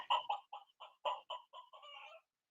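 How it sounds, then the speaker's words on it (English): A chicken cluck sound effect: about nine short, clipped clucks in a brisk, uneven rhythm, the last few running together into a quick chatter, clear and alone with no talk. "How about we do a cluck?"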